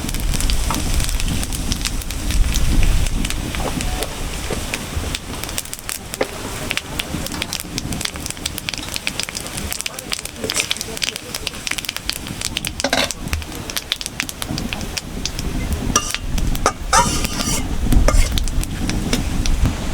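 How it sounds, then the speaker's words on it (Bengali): Bay leaves and cumin seeds tempering in hot mustard oil for a fish curry, a dense crackling sizzle with popping and spattering bursts, close and steady for the whole stretch, with no voices over it. "তেলটা গরম হয়ে গেছে এখন আমি ফোড়নে তেজপাতা আর জিরে দিয়ে দেবো"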